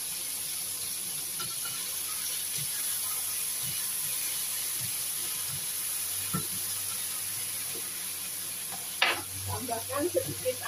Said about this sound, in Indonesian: Oke, kita aduk.